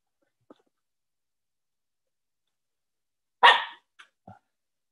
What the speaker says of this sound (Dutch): Dat was mijn hond.